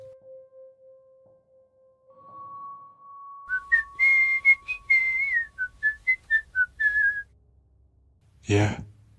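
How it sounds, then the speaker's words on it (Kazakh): Eerie whistling in a horror audio drama: a long steady low tone, then a higher sustained note, followed by a wavering melodic run of short whistled phrases, ending with a sharp breathy burst, heard alone and clear. "Ысқырығын естідің бе?"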